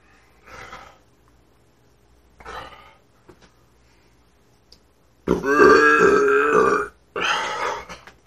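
A man burping while chugging a bottle of Colt 45 malt liquor: two short faint gulps or grunts, then a long, loud, croaking belch and a second shorter burp right after, close up.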